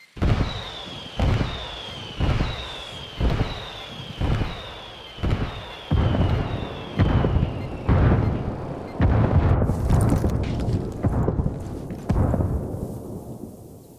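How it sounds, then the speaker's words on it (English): Indirect-fire artillery strikes in the video game Ghost Recon Wildlands land as a rapid series of about a dozen heavy booming explosions. Each has a whistling descent before the blast, then the impacts crowd together into a dense, rumbling barrage. "I'm calling for indirect fire."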